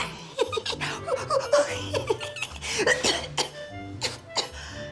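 A woman coughs and splutters in a series of short, sharp bursts that are mixed with laughter-like gasps, loud and close, with other voices faintly around.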